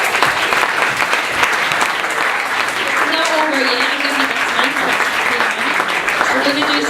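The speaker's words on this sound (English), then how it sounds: "give it a round of applause" An audience applauds after a talk at a live speaking event, sustained loud clapping from a room full of people, with voices calling out and a speaker talking over it partway through.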